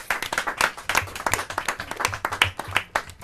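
A small group at a team competition final claps briskly for a few seconds, the individual claps distinct and uneven, close by and fairly quiet.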